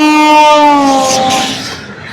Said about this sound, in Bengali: 5টা 8-এর লালগোলা প্যাসেঞ্জার আসছে